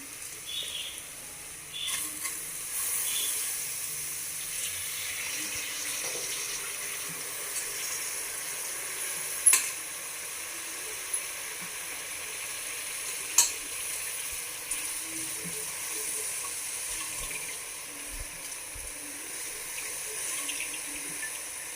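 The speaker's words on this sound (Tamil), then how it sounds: "இப்போது அரிசி ஆட் பண்ண போகிறேன்." Rice stirred in a frying pan for a simple veg biryani, a soft continuous sizzle with occasional scraping clinks of a spoon against the pan, faint and close, without voices.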